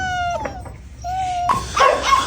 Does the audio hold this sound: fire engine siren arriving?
no